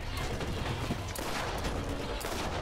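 Gunfire in the Borderlands video game, heard as dense rapid bursts of shots layered over one another in a continuous barrage at moderate level, with no talking.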